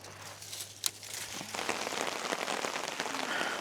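Steady rain patters densely on surfaces at a primitive campsite during a bivy camping overnight, a continuous close hiss of drops with one sharp tap near the start and no talking.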